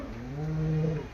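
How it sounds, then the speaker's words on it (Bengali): A cow behind a village cowshed gives one short, low, steady moo lasting about a second, fairly close and clear over faint outdoor background. "আর গরুর ডাক তো শুনতেই পাচ্ছ"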